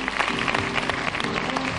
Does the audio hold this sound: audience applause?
yes